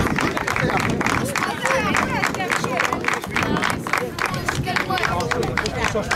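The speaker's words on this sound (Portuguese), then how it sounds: "Um aplauso para a equipa do Papa Léguas" A crowd at a youth athletics meeting claps rhythmically for the winning team, loud and continuous with cheering voices and chatter mixed in throughout.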